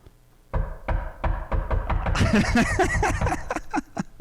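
Knocking on a door in a run of sharp raps that start spaced and gradually speed up like an impatient drummer, loud and close, with a voice talking over the middle stretch.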